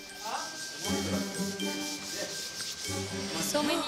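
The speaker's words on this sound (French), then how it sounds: "des ouvriers continuent à poncer les murs" Workers sanding the walls of a hotel under renovation, a continuous abrasive rubbing with scraping strokes and faint tinkles, nearby, with people talking over it.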